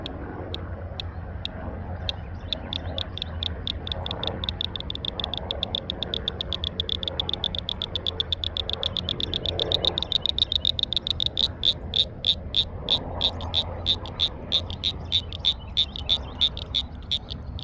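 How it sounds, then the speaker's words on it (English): A small frog at a pond makes fast, steady, ticking croaks that grow louder and nearer over time, with faint outdoor background noise and no voices. "Man, that is a little bitty frog making so much noise."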